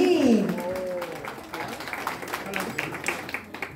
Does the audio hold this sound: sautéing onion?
no